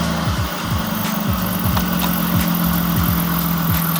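A BMW petrol car engine idles steadily at close range, a low even rumble with a faint rhythmic ticking running through it.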